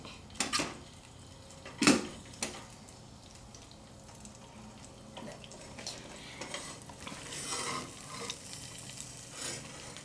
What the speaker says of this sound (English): Now I'm putting the worm on and it's going to fry.